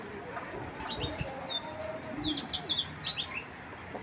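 Racer pigeons, including a costly young bird, make low cooing sounds mixed with repeated bright chirps, fairly close but quiet, with short bursts grouped through the middle and latter part.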